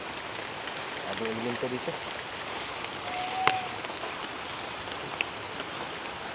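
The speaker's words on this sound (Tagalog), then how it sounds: "Umuulan eh." Rain falls in a steady, moderate patter outdoors while people talk over it, with a brief whistling tone and a sharp knock partway through.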